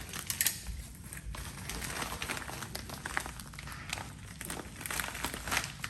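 A package of 48-inch mulching lawnmower blades being cut open, with close crinkling and rustling of bubble wrap and plastic wrapping in irregular bursts, no talk.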